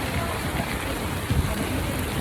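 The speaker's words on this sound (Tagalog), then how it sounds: "Lakas ng ulan." Dense, steady hiss of heavy monsoon rain pouring down during flooding, loud and close, with a faint low thump partway through.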